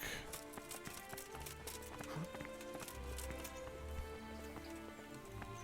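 Horse hooves clip-clop in the Kingdom Come Deliverance video game, a steady run of soft, close hoof beats over a busy bed of game ambience and music, with no talk over them.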